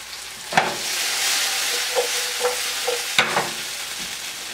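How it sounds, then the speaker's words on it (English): Olive oil sizzling in a pan while an omelet is being made, a steady close hiss broken by several sharp spatula taps and scrapes against the pan, with no talking. "A little oil in the pan. This is olive oil, heart healthy olive oil."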